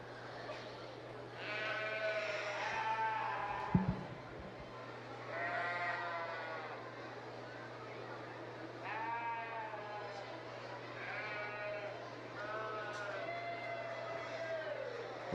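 Sheep bleating in a county fair livestock arena, several wavering calls repeating every few seconds amid a low crowd murmur and a steady hum, with an announcer speaking between bleats.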